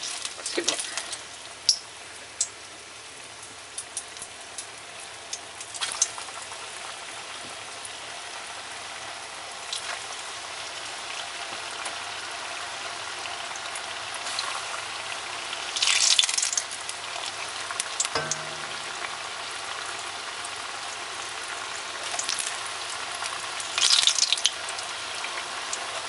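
Maakouda potato fritters sizzling in hot oil, a steady crackling fry that holds throughout with occasional louder pops and clatters, close by and without talking.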